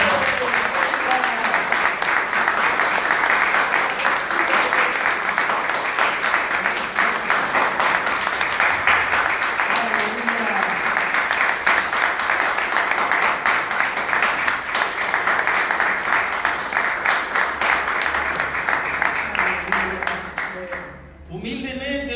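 A church congregation applauds in praise during a Jewish-messianic Torah portion service, dense sustained clapping filling the room for about twenty seconds before fading at the end.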